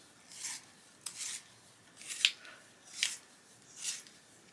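Colored pencil twisted in a small handheld sharpener that is getting full, five short scraping bursts spaced about a second apart, quiet and close with no talk.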